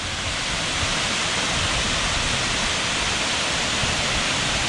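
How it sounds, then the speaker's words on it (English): A large waterfall at Stony Brook State Park, roughly 50 feet tall, roars with a steady, dense broadband rush that stays loud and unbroken from start to finish, with no voices. "This big, beautiful waterfall here."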